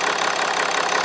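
A BMW X3 engine idles smoothly after an engine replacement, a steady even hum with a fine rapid pulse, close and constant throughout with no voices.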